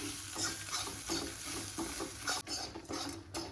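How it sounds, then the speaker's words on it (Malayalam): Grated coconut and curry leaves are stirred in a pan for Malabar sambar. Soft, faint scraping strokes repeat over a low, gentle sizzle, with a few light clinks of the spoon against the pan. "ഇവരെ ഒന്ന് ഇളക്കി കൊടുക്കാം"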